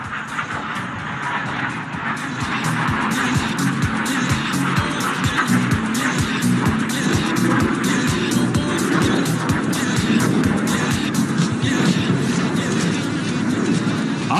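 An LCA Tejas fighter jet flies past inverted at the 2021 Dubai Airshow. Its loud, rough engine roar swells and then holds steady and powerful for the whole pass.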